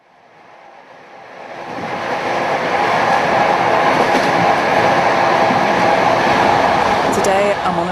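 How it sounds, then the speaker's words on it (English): A train travelling to Warsaw rumbles up from quiet into a loud, steady roar of wheels and carriage noise that holds close and constant, with a brief metallic clatter near the end. "train travelling to Warsaw"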